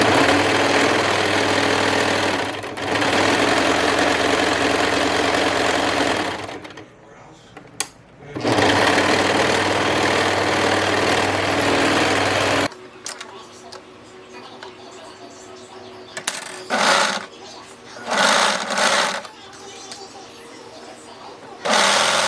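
A serger or sewing machine stitching elastic to a bikini cup, running in fast steady bursts with short pauses, then quieter stop-start stitching and handling sounds, with someone talking over parts of it.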